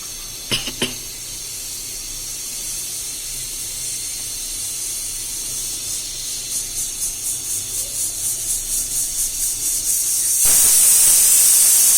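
A rice-cooking pressure cooker hisses steadily, and rhythmic pulsing puffs build into a loud continuous jet of escaping steam near the end, preceded by a couple of sharp clicks. The sound is close and no one speaks.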